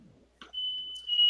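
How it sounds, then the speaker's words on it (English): A fire alarm sounds a sustained high-pitched electronic tone that starts abruptly after a brief rustle and continues steadily, growing slightly louder toward the end, with no talk over it. "What the hell? That's a fire alarm."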